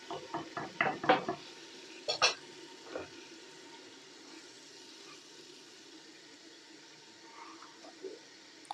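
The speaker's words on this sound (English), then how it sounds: "Mix the masala up. Give that a good mix." Masala is mixed in a clay pot for Pakistani mutton katwi: a quick run of clinking, scraping stirs at the start, then a few more knocks before a quiet, low simmering hiss.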